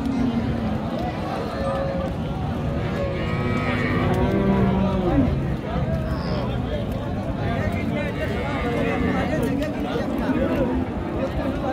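Cattle mooing repeatedly at the busy Raniganj livestock market, with a crowd chattering throughout and long low calls rising over the steady babble.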